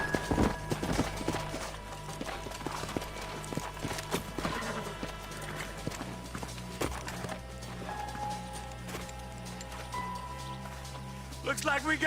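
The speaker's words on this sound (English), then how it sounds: "Let's hold up a minute and find a spot for our horses." Horse hooves clip-clop steadily in Red Dead Redemption, a rhythmic run of close hoofbeats with a brief neigh, set against low background music and game ambience.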